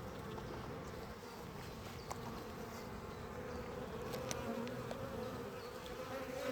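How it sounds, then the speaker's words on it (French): Honey bees buzzing steadily nearby at an apiary, a continuous droning hum from many insects with no talking. "Le problème c'est qu'il y a des abeilles."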